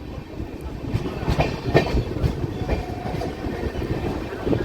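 SMVT Bengaluru–Tirupati 22618 Intercity superfast express running along the line past Pakala junction, with a steady broadband rumble and rhythmic clickety-clack of wheels over rail joints, heard from on board.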